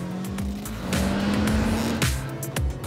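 A Kia Picanto, a small budget hatchback, drives a lap on a track, its engine droning loudly and steadily with a rising note, with brief tyre and road noise bursts through corners.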